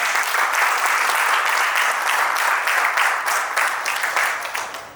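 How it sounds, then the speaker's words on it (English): A large audience at a farewell ceremony gives a big, dense round of applause, loud and sustained for the full stretch before tapering slightly at the end, with no talk over it. "So please give big round of applause for yourself to making this happen now"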